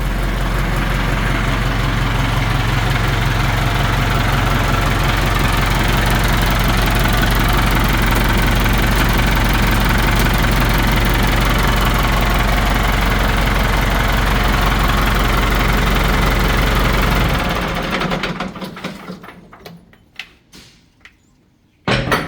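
A Ford 6640 4x4 tractor engine idles with a steady, loud, low diesel rumble. It runs close and alone for most of the stretch, then cuts off abruptly near the end, leaving a few faint knocks.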